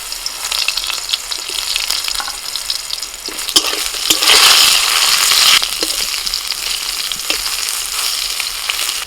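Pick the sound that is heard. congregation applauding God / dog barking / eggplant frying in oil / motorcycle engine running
eggplant frying in oil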